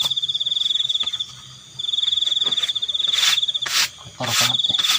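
Crickets chirp steadily through a night scene, with frogs and geckos also named as present. A close, loud trill pulses throughout, with brief gaps and some bursts of broadband rustle.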